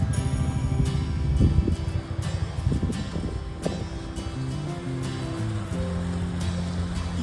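Water from a forest stream flows and splashes in a steady rush along a misty hill-country trail, continuous and fairly close, with no voices over it.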